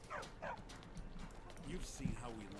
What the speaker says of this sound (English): Oh, puppy!